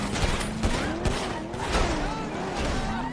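Rapid gunfire bursts in GTA V NoPixel roleplay crack in a tight, loud cluster of shots over a steady engine-like drone, with sharp repeated reports scattered through the moment.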